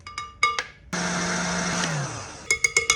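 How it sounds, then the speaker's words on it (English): An electric mixer running at full speed whips meringue with corn flour in a loud, steady whir lasting about a second, with clinking taps before and after. "Leave the mixer on full tip till it's really hard peak"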